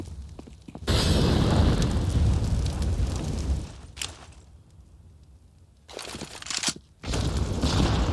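Loud bursts of grenade and gunfire sound effects from a Counter-Strike: Global Offensive match on the Anubis map, with roaring booms that drop to a quieter lull and then return in two more heavy blasts.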